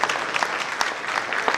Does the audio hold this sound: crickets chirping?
no